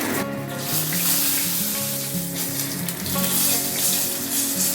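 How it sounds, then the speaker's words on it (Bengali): Whole spices dropped into hot oil, dry red chilli, bay leaf, cumin, green cardamom and cinnamon, sizzling and crackling continuously and fairly loudly, up close, with no voices. "এখানে দেখো আমি প্লেটে একটা শুকনো লঙ্কা, তেজপাতা, জিরে, গোটা এলাচ আর দারচিনি নিয়েছি। এগুলো এই তেলে দিয়ে দেবো।"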